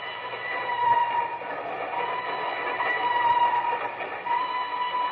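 A train crossing a trestle over a deep mountain gorge rumbles along continuously with a steady, band-limited roar and faint clattering, sounding like a recording from inside or alongside the moving cars.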